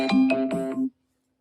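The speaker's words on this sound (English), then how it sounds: "You hear that phone call?" A phone ringtone plays through an amplifier, a short loud electronic melody of about four tonal pulses that stops abruptly after under a second.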